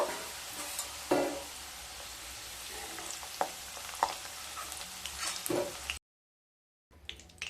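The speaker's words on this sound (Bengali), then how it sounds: "আলুটাকে হালকা ব্রাউন কালার করে ভেজে নিতে হবে।" Potatoes frying in a pan with a steady sizzle, broken by several sharp scrapes and clatters as a spatula stirs them, then a brief gap of silence before the frying resumes.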